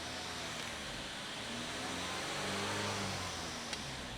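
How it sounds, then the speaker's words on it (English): A car engine idles steadily just after an engine bay cleaning, with a gentle rise in revs near the middle. The sound is a continuous mid-level hum with no talking over it. "Let's start it up. Appears to be running okay. Give it a little fuel,"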